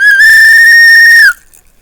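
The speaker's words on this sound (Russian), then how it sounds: "Есть свисток. Позвать на помощь." A safety whistle attached to a life jacket is blown once, a loud, piercing, steady tone lasting just over a second before cutting off abruptly, heard alone.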